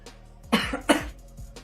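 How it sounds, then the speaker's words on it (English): Two sharp coughs, close and fairly loud, from a commentator narrating a football game event walkthrough, with a faint third throat noise trailing after. "just had to cough a little bit."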